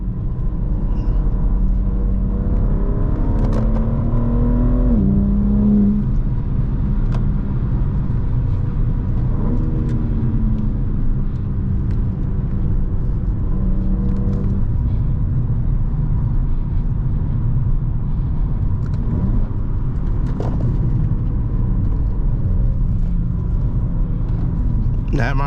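A BMW M4 with rear-wheel drive on Pirelli tires, revving hard with its rear wheels spinning on a cool day, a loud sustained engine roar with rising and falling revs and tire noise throughout, while someone talks over it.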